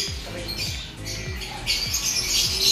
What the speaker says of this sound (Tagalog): pinapakain yung mga ibon